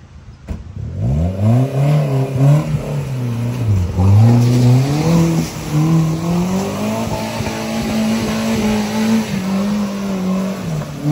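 Car engine revving and straining as it climbs an off-road rough track toward Makursar Lake, a loud continuous drone that rises and falls in pitch with bursts of acceleration, close by throughout.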